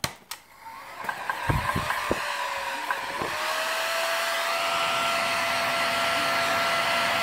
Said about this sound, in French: Mon décapeur thermique est un peu vieux. Il est capricieux du coup.